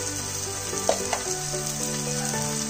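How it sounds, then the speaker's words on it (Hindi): Ground spices, red chilli, turmeric, garam masala and coriander powder sizzle in hot oil with Maggi noodle masala, a steady close frying hiss broken by a few soft stirring clicks. "इसको अच्छे से भून लेंगे"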